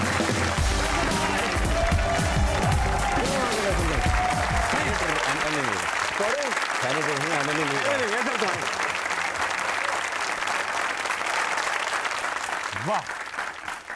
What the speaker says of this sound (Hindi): एक्सटेंडेड तालियां बजाने वाले